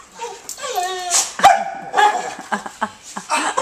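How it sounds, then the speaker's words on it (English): A herding dog gives a run of close, loud yips and barks with whiny, whimpering tones in between, uneven and excited. "He wants him down here with him, and that's why he's barking."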